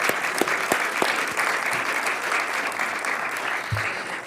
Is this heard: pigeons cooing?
no